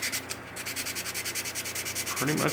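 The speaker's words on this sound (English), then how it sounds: "Prop making and sanding." Hand sanding of an old car part with sandpaper, a quick regular rasping rhythm up close, briefly interrupted early on and then resuming steadily to the end.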